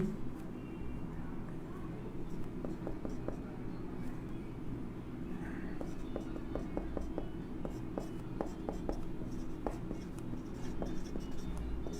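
Chemistry notes being written by hand: steady scratchy pen strokes with short taps recur through a low background hum, close and fairly quiet.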